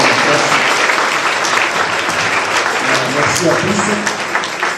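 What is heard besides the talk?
congregation applauding at Christmas Eve mass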